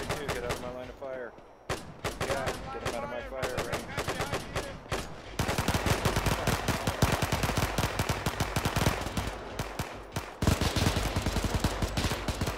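Continuous rapid gunfire in a World War II shooter, with dense overlapping shots from several weapons throughout and voices shouting orders underneath.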